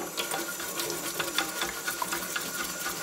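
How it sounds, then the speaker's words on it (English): Water runs steadily from a tap over a Macintosh IIci circuit board being washed, a continuous splashing flow with irregular droplet patters, close and without talk. "And this is just water at this point."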